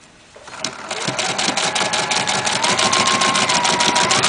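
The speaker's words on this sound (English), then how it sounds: "Now I'm just going to stitch across here and down here" A sewing machine runs a straight stitch across fabric for a homemade hachimaki headband, making a steady, rapid mechanical chatter that starts up and then holds an even rhythm close by, with no talk.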